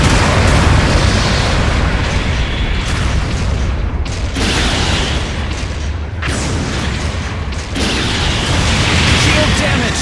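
Repeated explosion booms from mobile suits being destroyed in a mecha combat video game, loud and dense over a constant roar of battle with a few brief dropouts, game voice callouts mixed in.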